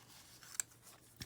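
Scissors trim a paper envelope along a fold line, giving two faint, quiet snips about half a second apart in a hushed room.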